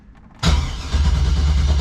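An LS-swapped BMW E30 cranking to prime oil: a click, then a sudden loud starter whir and churning engine turnover that holds steady without firing.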